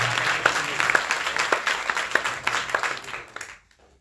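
Audience applause at an Arya Samaj annual function, a moderate round of clapping with distinct individual claps, tapering and fading out to near silence at the end.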